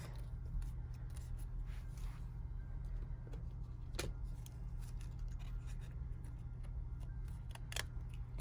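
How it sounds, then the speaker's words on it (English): Scissors cut the petals off a small flower bundle for a gnome flower petal ornament, giving a couple of sharp, isolated snips over a steady low background hum. "And we're going to cut the petals off."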